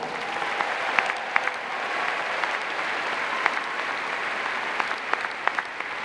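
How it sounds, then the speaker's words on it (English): Steady applause from a large crowd at a Florida State University spring commencement ceremony, a dense wash of clapping with a few sharper claps standing out, sustained evenly throughout. "Let's give them a great round of applause"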